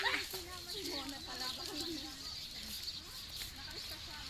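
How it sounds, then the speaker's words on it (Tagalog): Many pigeons coo softly in the background of a park while people talk nearby, with a busy outdoor murmur. "Wow! Ang daming ibon."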